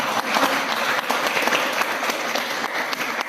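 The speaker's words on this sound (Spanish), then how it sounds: "Démosle un aplauso." An audience applauds in a hall, a dense, even wash of many hands clapping at close range and fairly loud, sustained throughout with no speech over it.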